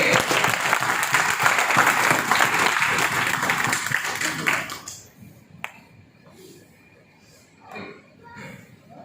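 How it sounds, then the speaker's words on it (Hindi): An indoor seminar audience applauds a diamond director taking the stage, a dense burst of clapping lasting about five seconds before dropping away into quiet room noise and scattered faint sounds. "हमारे डायमंड डायरेक्टर संजय कुंडिया जी की ठंडी ताली एक डायमंड डायरेक्टर के लिए"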